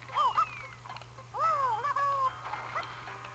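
A pet cat meows twice at close range indoors, each call a short rising-and-falling cry, over a steady low hum and faint background game sounds.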